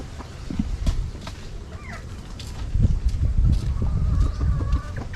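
Chickens cluck and squawk close by at feeding time amid scuffling and ambient farmyard noise, with a few scattered bird calls.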